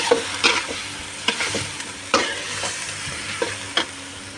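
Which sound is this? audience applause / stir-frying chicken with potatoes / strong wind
stir-frying chicken with potatoes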